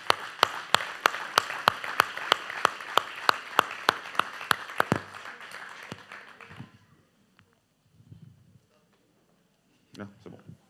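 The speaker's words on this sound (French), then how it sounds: "on peut vraiment applaudir bien fort Emmanuel et Sandra" A church congregation at a Sunday service claps in a fast, regular rhythm for about five seconds, the beats sharp and close, then the clapping fades into quiet with a few faint noises.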